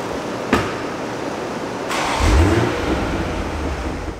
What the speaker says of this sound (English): So we make some pulls with a 62mm turbo to show you how much power output the turbo will produce.